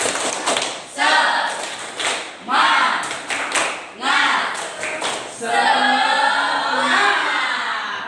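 A school class performs a rhythmic spirit clap, bursts of clapping in a patterned beat repeated in several rounds, with children's voices chanting along between and over the claps.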